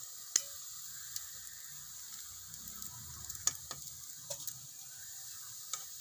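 Onions frying in hot oil for chicken biryani, cooked until browned: a soft, steady sizzle with a few sharp clicks and taps of stirring, fairly faint and close, with no talking.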